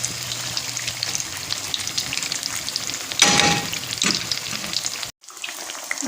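Chili pakoras sizzle steadily in hot oil, with a louder surge of frying about halfway through, then a brief near-silent gap before the hiss resumes close by.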